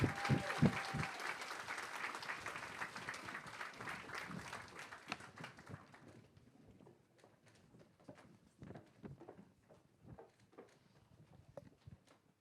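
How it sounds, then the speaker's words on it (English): Loud applause from a university Three Minute Thesis final audience at first, thinning after a few seconds into scattered individual claps that trail off. "Give them a big round of applause as they leave."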